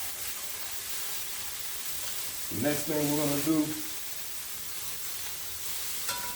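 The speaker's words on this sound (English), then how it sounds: "We just put our shrimp in." Shrimp sizzle in a pan of leftover marinade and oil for a Southern stir fry, a steady close hiss running throughout while someone speaks briefly over it.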